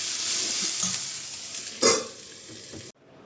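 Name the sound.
frying in a pan, sizzling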